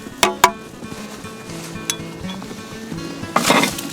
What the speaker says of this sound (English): the first thing to do is we have to clean the ashes out